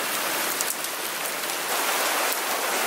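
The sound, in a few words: hail falling outdoors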